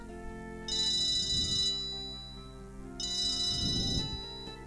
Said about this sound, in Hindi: अब एक दिन मामा जी का फोन आया।